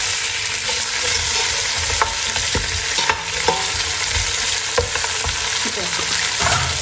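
Lamb sears in a pot for a colombo, giving a steady, close sizzle with the clicks and scrapes of stirring, and a single short spoken word partway through.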